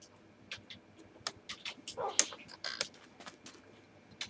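A dog in the Minecraft Jurassic Craft mod gives soft whimpers and small yips, a string of brief cries spaced through the stretch with no talk over them.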